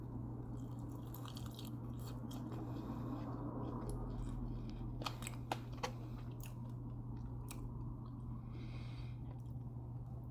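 Faint, close crunchy chewing and biting into an unfamiliar food eaten with wings and cup noodles, with a few sharp bites over a steady low background hum.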